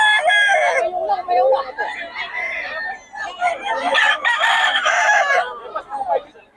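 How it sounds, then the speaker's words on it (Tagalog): Roosters crow loudly and repeatedly while chickens cluck and squawk close by, a busy, noisy flock sound at a chicken market in Bocaue. "Tony, maraming manok to."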